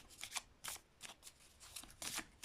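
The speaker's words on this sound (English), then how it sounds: "I usually shuffle until the cards come out" Tarot cards riffled and shuffled by hand in quick bursts of crisp, papery flutters separated by brief pauses, close and fairly quiet with no talking.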